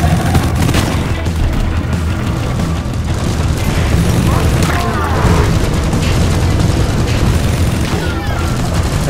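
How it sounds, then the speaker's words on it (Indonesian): Dense, loud booms and rumbling blasts from explosions in the co-op video game Deep Rock Galactic, mixed with rapid gunfire during a swarm attack, sustained and chaotic throughout. "Ada meledak di atas."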